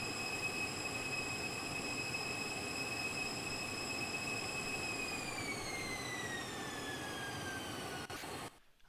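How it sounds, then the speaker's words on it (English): Jet engines of a Hotstart CL650 Challenger in the X-Plane 12 flight simulator give off a steady, loud whine with high screeching tones that slide downward as the engines spool, over a broad rumbling roar, before cutting off abruptly near the end. "Oh, listen to those engines screech."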